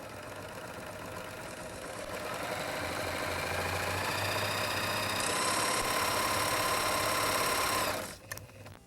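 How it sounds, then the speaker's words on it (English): A Viking Huskylock 1002LCD serger hums in a steady, fast mechanical whir as it stitches and trims a folded fabric edge, close and continuous for several seconds before stopping abruptly, with no talking. "And as I stitch, I'm cutting the edge and I'm catching the fold."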